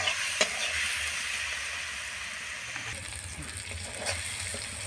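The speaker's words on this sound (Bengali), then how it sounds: "আমার রসুনগুলো এখানে ভাজা হয়ে গেছে।" Garlic fries in oil in a pan for a meat dish, giving a continuous, moderate sizzle at close range with a few small pops and scrapes, and no voices.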